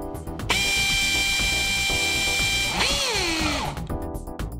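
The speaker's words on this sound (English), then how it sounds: "Place the ground eyelet over the screw and fasten tightly." A power drill drives a self-tapping screw through a ground eyelet while fitting a CURT 55027 trailer wiring harness on a 2012 Jeep Liberty: a loud, steady close motor whine that dips in pitch under load near the end.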